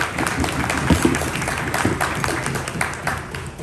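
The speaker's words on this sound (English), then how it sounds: "Please give him a round of applause for his courage" Audience applause at a Pakistani American community gathering honoring a man's courage, a steady wash of many hands clapping that swells slightly and then tapers near the end.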